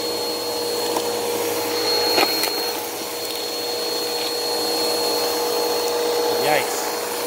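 A Bissell PowerForce Helix (2191U) vacuum cleaner runs steadily at close range in a dusty backyard, a constant motor whine with a brief clunk and a short squeal near the end.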